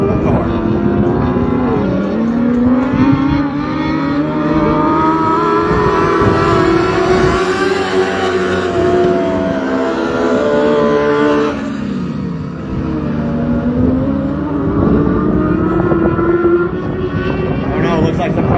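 Race cars, among them the number 34 hot rod, roar around the Battle Mountain Raceway dirt oval, engines revving and swelling as they pass in loud continuous waves beneath a commentator's voice.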